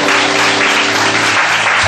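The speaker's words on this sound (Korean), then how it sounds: "박수 한번 치세요." A church congregation claps together in a loud, sustained burst of applause filling the worship hall, dense and even from start to finish.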